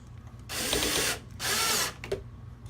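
A power tool backs out screws from a floor monitor speaker in two close, loud bursts of whirring, each about half a second long, followed by a brief quieter click in a quiet room.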